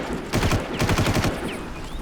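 Rapid gunfire in the Far Cry 1 video game, a loud burst of repeated shots in quick succession with a brief lull, then more firing, no voices.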